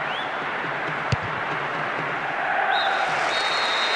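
Stadium crowd applauding in the PES 6 football video game during a Sweden vs England match: a steady, even wash of clapping and crowd noise with one brief sharp click partway through.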